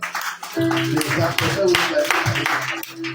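A church congregation at a Sunday service claps in a loud burst of applause mixed with voices and cheering, over a steady musical tone.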